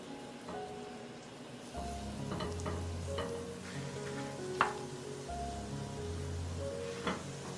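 Chive batter fries steadily in an oiled pan over low heat, a continuous soft sizzle with occasional sharper pops and crackles.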